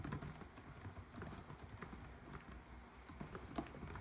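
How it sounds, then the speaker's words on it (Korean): Rapid, light keystrokes patter continuously on an MSI GE76 Raider gaming laptop keyboard, close and fairly quiet, with an uneven typing rhythm. "일반적인 수준의 타이핑 소리였는데요."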